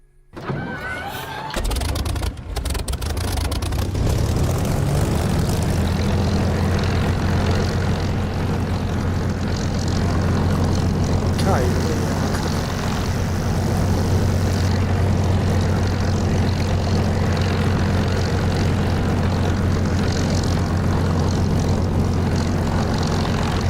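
A propeller aircraft engine in the DCS flight simulator game cranks over and catches, then settles into a steady, loud, droning idle that runs alone for the rest of the stretch.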